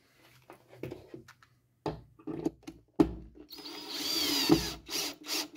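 A power screwdriver drives screws into plasterboard while a hole is repaired. Short bursts and clicks lead into a sustained, rising whir as a screw bites in, heard close with no talk.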